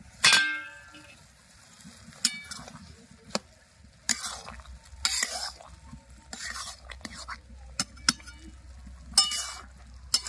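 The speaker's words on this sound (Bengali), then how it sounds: "ঢাকনা খুলে একটু নেড়ে নেবো" A metal lid comes off a wok of cooking greens and a spatula stirs, giving sharp clangs and scrapes between quiet gaps, with a soft low voice in places.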